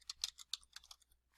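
Quick, light keystrokes on a computer keyboard as a date is entered, roughly a dozen close clicks in an uneven typing rhythm, quiet against near silence.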